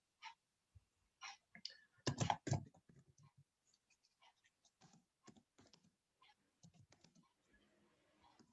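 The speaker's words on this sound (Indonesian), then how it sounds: "Nah, kita ketikkan perintah seperti ini." A computer keyboard clatters as a command is typed into a Kali Linux terminal, with bursts of close key taps, a louder cluster near the middle, and lighter scattered presses trailing off.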